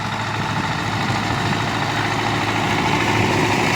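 A tractor pulls a seed drill across a wheat field, its engine droning at a steady, heavy, continuous roar that fills the whole stretch without pauses, moderately close.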